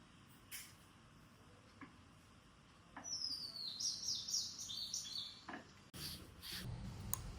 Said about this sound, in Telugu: బర్డ్ పిలుస్తుంది.